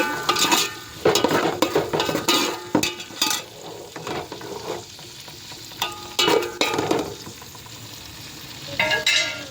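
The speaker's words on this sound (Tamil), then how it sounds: "ஸோ வந்து நல்லா வதக்கணும்." Tomatoes sautéing in a pan for tomato rice, with bursts of stirring and scraping over a steady close sizzle, the spatula strokes coming in uneven clusters with short quieter gaps.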